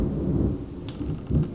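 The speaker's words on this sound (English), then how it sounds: "Hello Thunder" Thunder rolls in low, rumbling swells during a storm, a heavy near rumble that eases and then surges again, with faint rain-like noise and no speech.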